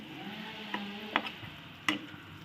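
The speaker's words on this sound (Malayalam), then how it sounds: "കുറച്ച് ഇഞ്ചി വെളുത്തുള്ളി പേസ്റ്റും കൂടെ ഇടാം. എന്നിട്ട് നല്ലതുപോലെ ഒന്ന് ഇളക്കിയെടുക്കാം" Ginger garlic paste is stirred into a frying meat curry: soft sizzling beneath a few distinct scraping strokes of a spoon against the pan.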